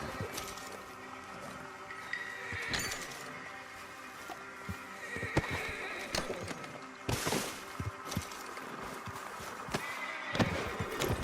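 A Nakota horse neighing in the video game Red Dead Redemption 2, with whinnies and snorts amid scattered sharp knocks and hoof-like thuds, fairly close, in a busy outdoor scene.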